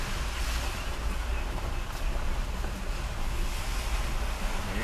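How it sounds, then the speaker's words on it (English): Steady roar of ocean surf washing against rocks along the south coast of St. Thomas, a continuous broadband rush with no voices, close and fairly loud throughout. "you see the water crash on the side of the rock"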